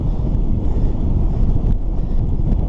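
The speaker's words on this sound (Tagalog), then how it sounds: "Pasalubong talaga yung hangin." Strong headwind on an airport road during a bicycle ride, a steady low roar of wind buffeting the microphone, close and constant, with no talking.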